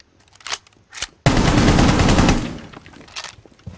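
Automatic gunfire in Rainbow Six Siege on the Coastline map, a couple of separate shots, then a loud sustained burst of rapid fire that fades into reloading clicks and handling noises.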